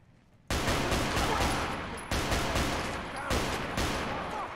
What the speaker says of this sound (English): Oh shit! They do use guns.